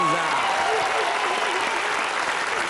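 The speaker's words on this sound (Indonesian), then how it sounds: "Tepuk tangan Mbak Riza." A studio audience on a game show gives loud, sustained applause, and a voice talks briefly over the opening of the clapping.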